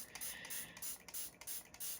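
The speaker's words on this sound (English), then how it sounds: "Now I'm going to spray my Beauty Blender real quick." Quick repeated spritzes from a spray bottle onto a Morphe makeup sponge, several short hissing bursts in fast rhythm, close and fairly quiet.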